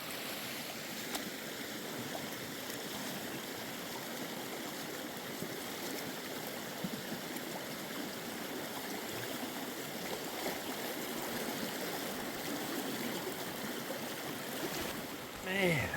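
River water rushes and gurgles steadily around someone wading barefoot through a cold, slippery high-country stream, a constant close wash of flow with a brief splash at the end.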